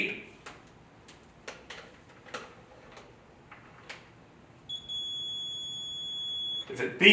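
Continuity tester on well pump wires gives a sustained electronic tone near the end, after a stretch of quiet ticks and clicks.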